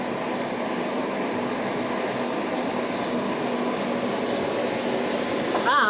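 A Creda Hotpoint tumble dryer runs with its side panels removed, giving a steady, even whirring drone of the turning drum that continues unbroken and fairly loud throughout.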